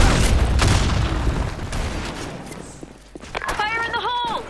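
Grenade blast in the online shooter BlackShot during a clan war match, a loud low boom at the start trailing into rumbling debris noise, with voices and bright game sound cues layered on top.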